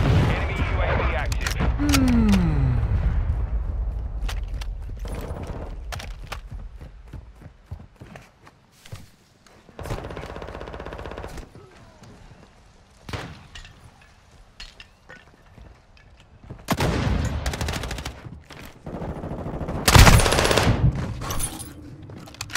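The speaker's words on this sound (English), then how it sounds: "Taking effective fire." Rapid bursts of M4 rifle gunfire in an embassy assault scenario, loud and sharp with irregular volleys spread across the stretch and quieter gaps between them, with voices talking in places.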